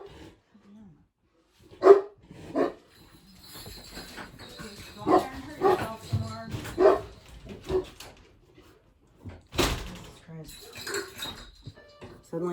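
An excitable indoor dog barks in sharp, loud bursts, separated by quieter whimpers and yips, with a person talking in between.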